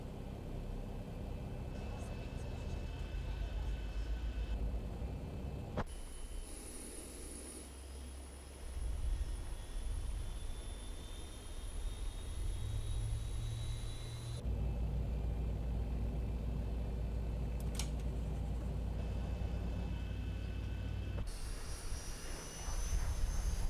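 In X-Plane 11, engine 1 of a simulated Boeing 737-800 spools up from rest. A low rumble builds with a rising whine, and the sound shifts abruptly between cockpit and exterior perspectives.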